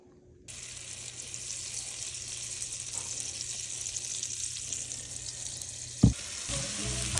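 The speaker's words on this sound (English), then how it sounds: "I've been letting the vegetables sweat for a while" Vegetables sweat in a hot pot, giving a steady, even sizzle that starts after a brief quiet moment and holds throughout, with a sharp clank near the end and no talking.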